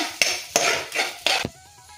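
A spoon scrapes and stirs cumin seeds and small chopped onions in a frying pan, with four distinct stroke bursts over a faint background sizzle.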